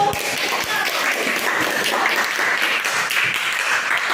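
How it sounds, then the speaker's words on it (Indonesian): Children in a primary school classroom applaud a student group, a dense continuous clatter of many hands clapping steadily throughout with a little voice noise beneath. "Tepuk tangan untuk kelompok 1."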